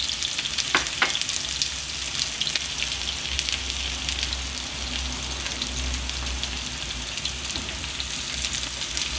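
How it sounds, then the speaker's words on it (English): Sliced onions deep frying in hot oil for peanut rice, a steady, dense sizzle and crackle that stays loud and close throughout, with a couple of brief sharp pops near the start and no talk. "Add the onions to the oil"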